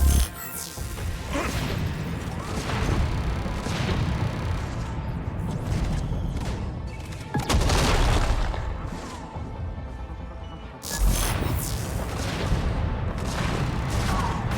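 A turret in a video game fires against a mech, sending out repeated heavy booming blasts and crashes over a constant rumbling din, with two loud impacts standing out midway and near the end.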